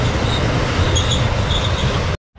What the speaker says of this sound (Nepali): यो चाहिँ अस्ट्रेलियाको सामानहरू ओसार पसार गर्नेवाला ट्रेन हो